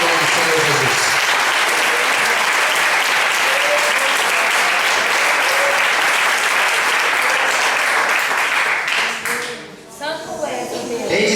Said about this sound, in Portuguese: Aplaude o nome do Senhor Jesus.